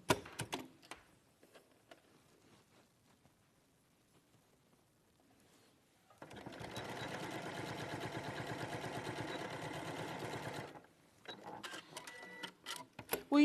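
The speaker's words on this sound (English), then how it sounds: "They are a bit fiddly to get under your sewing machine at the top." A sewing machine stitches in one continuous, fast mechanical burst of about four seconds, close and fairly loud, between quiet stretches with faint handling noises and soft voices.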